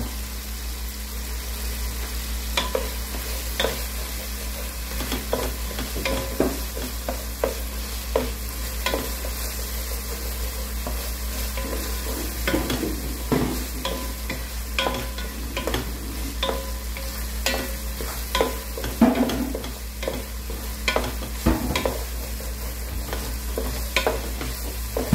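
Tomatoes cooking down in a pan for sinigang na bangus, a steady close sizzle with scraping stirs and clicks of a utensil against the pan running throughout.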